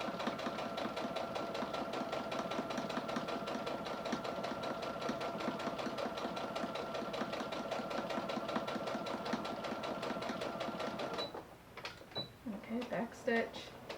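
Sewing machine stitching a fabric face mask with back stitches, a fast, even mechanical whirr running steadily close up, then stopping into a few short clicks and handling sounds at the end.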